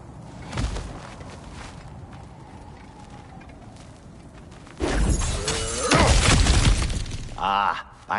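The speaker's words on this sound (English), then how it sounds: "back to smashing through things for fun and profit" Breakable objects smashing in the video game God of War Ragnarok, with a sharp crash early on, then footsteps, followed by a longer burst of loud shattering and debris near the end; a voice is heard briefly.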